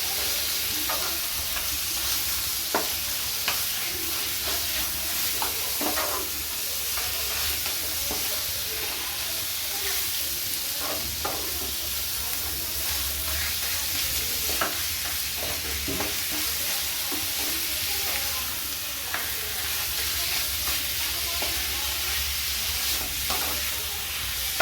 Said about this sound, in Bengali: এগুলো দিয়ে ভালো করে এবার আমি কিমাটাকে কষিয়ে নেব।